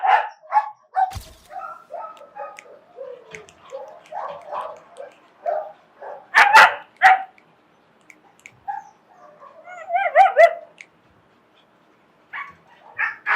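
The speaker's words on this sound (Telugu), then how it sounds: "దీని పేరు లీసా, ఇది గ్రేట్ డేన్." A Great Dane at a dog-training facility gives intermittent barks and higher yips in short bursts separated by pauses. The dog sounds moderately close, and no one talks.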